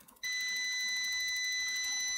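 A multimeter's continuity beep switches on abruptly and holds unbroken at an even, high pitch while testing a fuse in a water-damaged MacBook Air, with faint background hiss before it starts.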